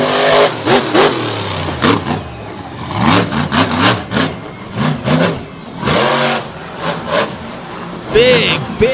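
A monster truck engine revs and roars at the Lake Erie 2020 show during a best-trick run, its pitch surging and dropping in repeated bursts, loud and close, with an announcer talking over it.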